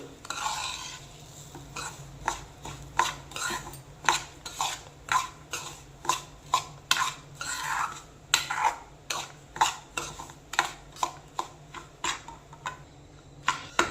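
Semolina stirred and roasted in ghee for mango rava kesari, a spoon scraping the pan in a steady run of sharp clinks and taps with a faint sizzle underneath, close and continuous.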